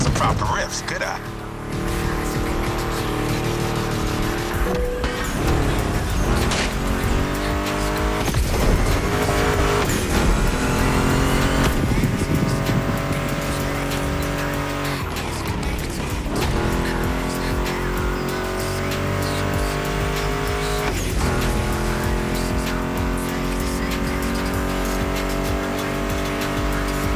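Roaring video game muscle car engines, including a Mustang GT, rev and rise in pitch repeatedly, with tire squeals and skids, under guitar-riff music and a talking voice.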